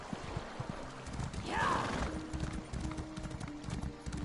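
Hooves clip-clop at a steady walking rhythm with a brief whinny-like burst in the middle, horse sounds in The Elder Scrolls Online game, with a single short spoken word over the top.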